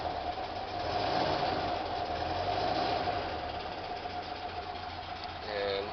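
The engine of a 1971 VW Super Beetle runs steadily nearby with a rough, even idle drone. Near the end a brief higher whine rises over it.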